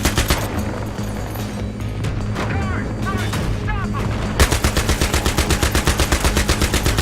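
Rapid, loud machine gun fire from a tank-mounted gun in Battlefield 3, a dense rhythmic burst of shots that grows sharper and more regular in the second half, over battle noise with voices talking.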